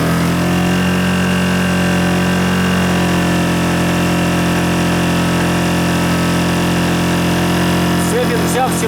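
A Zipper ZI-STE1000INV 1 kW inverter generator runs steadily under roughly a 700 W soldering load, giving a loud, constant engine drone with a stable hum that continues without a break throughout.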